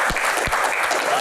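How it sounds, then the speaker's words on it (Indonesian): Audience applause in a casual Indonesian Q&A session, a brief, dense burst of clapping with a couple of heavier low thumps near the start. "tepuk tangan."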